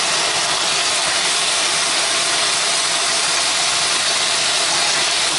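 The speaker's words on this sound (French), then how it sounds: "on va retourner un peu les cailles maintenant" Quails frying in a pan with honey and onion hiss in a loud, steady, unbroken sizzle that holds evenly from start to finish, close up and without talk.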